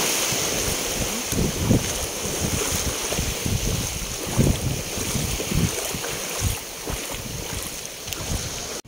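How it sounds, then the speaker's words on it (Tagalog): Rough surf pounds and churns without a break as strong waves roll in close by, mixed with gusty wind noise on the microphone, and no one speaks. "Malakas yung alon."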